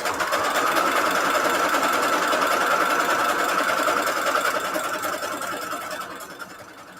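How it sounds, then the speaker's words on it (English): A sewing machine runs continuously, sewing a zigzag stitch on default settings around a piece, with a steady rapid mechanical whir close up that fades slightly toward the end, no talking. "I am just going to use a zigzag stitch in default settings, and I'm just going to sew all the way around."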